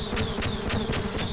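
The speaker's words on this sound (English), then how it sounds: "it is actually the bees gun" The bee gun in Half-Life Sven Co-op fires buzzing bees, a close insect-like drone that pulses in quick regular bursts over a steady hum, with no voices.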